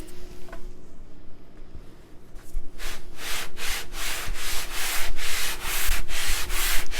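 Hand sanding of a wooden radiused dome used for laminating guitar backs: a steady run of rhythmic, close rasping strokes that grow louder and quicker as the work goes on, heard alone with no talk.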